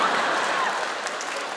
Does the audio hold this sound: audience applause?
yes